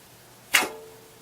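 Single arrow, an X-Buster shaft, loosed from a homemade bow through a chronograph in a basement: one sharp close snap and whoosh that rings briefly and dies away, with no talk.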